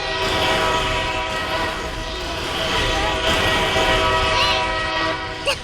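A train rumbles past loudly and close, its horn blaring in long sustained tones over the heavy running noise of wheels and cars.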